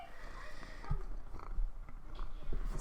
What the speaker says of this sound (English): you hear a cat purring, it's because my cat apparently loves me a lot right now